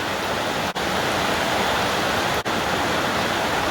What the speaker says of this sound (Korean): 갑자기 소나기가 엄청 쏟아집니다.